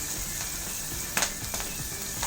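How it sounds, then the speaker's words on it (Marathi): Garlic frying in hot oil for Maharashtrian mirchi thecha, a steady close sizzle with a few soft stirring scrapes and crackles, no one speaking. "लहसुन थोड़ा भून लो"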